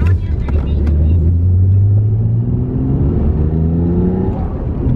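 A 1995 Nissan Skyline GT-R R33 accelerating on a road in Japan, its engine droning loud and low, rising in pitch through the gears, with a person talking over the engine.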